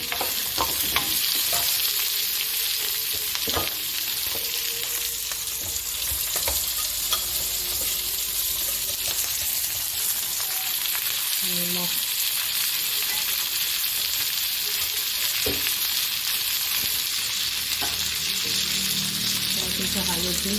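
Tomato frying in a pan for a home fish meal gives a continuous loud sizzle, with occasional scraping taps from the spoon as it is stirred.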